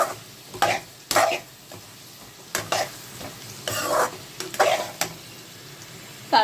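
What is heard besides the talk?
potatoes with salt and turmeric being stirred and fried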